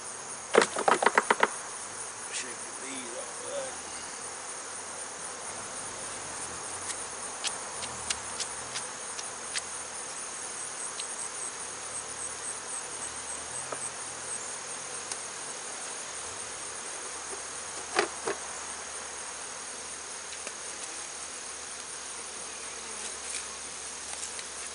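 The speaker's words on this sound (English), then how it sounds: "Shake the bees off of that." Honey bees buzz steadily around a hive box with a small swarm remnant nearby, a continuous close drone with a few sharp bumps and knocks early on and scattered clicks, no talk.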